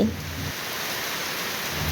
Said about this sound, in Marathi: बापरे किती मोठे मोठे पडत आहेत थेंब अचानक येणारा पाऊस